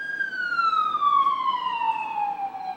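A passing ambulance siren sounds one long, clear wailing tone that slides steadily downward in pitch as the vehicle moves by, fairly loud over faint traffic rumble.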